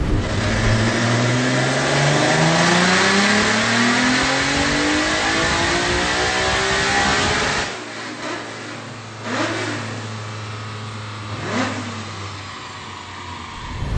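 A nitrous-fed BMW M3 engine revving on a dyno, loud and close, pitch climbing steadily through a long pull, then dropping off to a lower drone broken by two sharp throttle blips.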